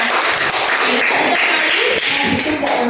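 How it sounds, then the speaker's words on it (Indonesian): Fifth-grade students in an elementary classroom clap for a classmate, a dense, close patter of many small hands that runs continuously and evenly throughout. "beri tepuk tangan untuk temannya"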